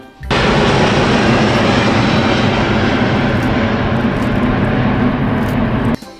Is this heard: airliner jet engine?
yes